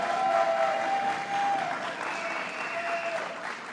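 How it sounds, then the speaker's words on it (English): Audience applause at a political rally in the Bronx, a steady wash of clapping from the crowd lasting a few seconds, with some faint tonal noise in the background. "Let's give him a round of applause."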